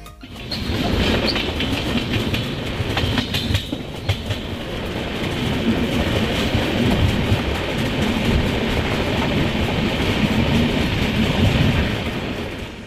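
The Darjeeling Mail passenger train runs at speed, a dense continuous rumble with rhythmic wheel clatter on the rails, heard steadily from on board with no voices.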